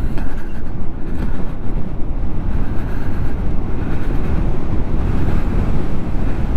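A 2021 Seat Mo 125 electric scooter ridden at full throttle, heard as a steady, loud roar of wind rushing over the microphone with no distinct motor whine and no voices.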